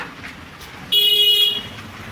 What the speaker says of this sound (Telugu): హార్న్ సౌండ్స్ కానీ